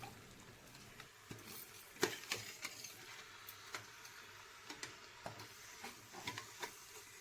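Chicken is stirred in a pressure cooker for about a minute, producing quiet scraping and tapping clicks of a spoon against the pot at an irregular pace over a faint background sizzle.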